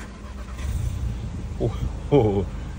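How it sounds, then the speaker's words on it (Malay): A 2023 VW Tiguan R-Line with a Stage 2 Revo tune starts up: a short low rumble followed by a louder engine catch and exhaust burble close by, with a person talking over it. "Korang bunyi dengar exhaust tu guys"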